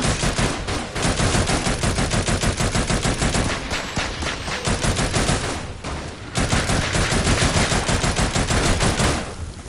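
Rapid, loud shotgun blasts ring out in near-continuous succession during frantic combat in the VR shooter Farpoint, with no voices.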